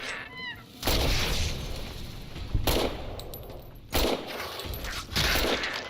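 Several sharp gunshot bursts ring out in Fallout New Vegas, with brief loud cracks at intervals over a background of game noise and a few chirping tones.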